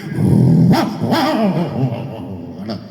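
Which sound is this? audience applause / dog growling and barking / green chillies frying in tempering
dog growling and barking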